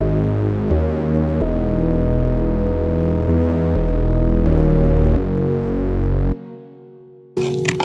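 Distorted synth chords run through tube distortion, chorus and reverb with a high-pass filter, a thick sustained buzzing progression changing every second or so, then a sudden cutoff into a reverb tail and a brief new burst, no talk.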